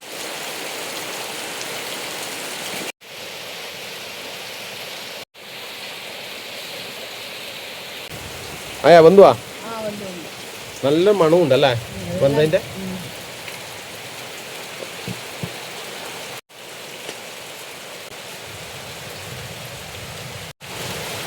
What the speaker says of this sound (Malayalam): മഴ പെയ്യാൻ തുടങ്ങിയിട്ടുണ്ട്.